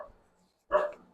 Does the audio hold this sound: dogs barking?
yes